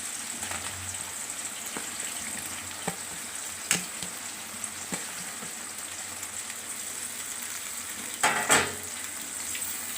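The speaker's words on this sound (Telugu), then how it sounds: "మిర్చి వేగింది కదండి, ఉల్లిగడ్డలు వేస్తున్నాను." Sliced onions and green chillies frying in hot oil in a village kitchen, a steady close sizzle and crackle running throughout, with occasional stirring clatters and a louder burst of spitting near the end.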